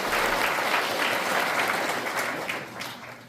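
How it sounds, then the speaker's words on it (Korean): An audience at a Korean Provisional Government anniversary ceremony claps in steady, dense applause that fills the hall, then gradually thins toward the end. "박수로 맞이해 주시죠."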